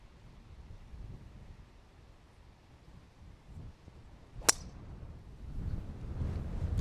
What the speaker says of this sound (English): Oh, there's a big gust.